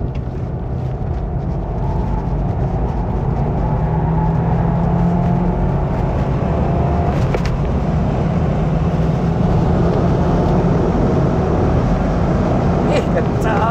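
A Subaru WRX engine pulls hard on the Sentul race track, a loud, steady in-car roar with a continuous low drone and road noise throughout, and no clear break.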